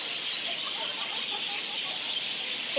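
A dense chorus of birds calls around sunset along a Singapore street under dark thunderstorm clouds, a constant high chattering wash with a few louder chirps standing out.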